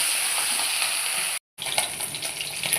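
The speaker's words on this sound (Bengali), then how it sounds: "সর্ষের তেল গরম করে মাছে নুন হলুদ মেখে মাছটা ভেজে নেব" Fish coated in salt and turmeric fries in hot mustard oil, a steady close crackling sizzle that cuts out briefly to silence and then resumes with sharper pops.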